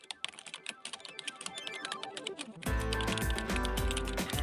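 Rapid clattering keystrokes on a computer keyboard as a search term is typed in, close and steady, with a denser burst of clicking toward the end and no voice.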